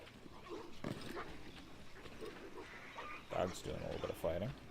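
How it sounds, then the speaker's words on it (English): A dog in Assassin's Creed III growls, yips and barks while fighting, the sounds coming in short bursts that grow louder near the end, with someone talking over the game audio. "Dog's doing a little bit of fighting."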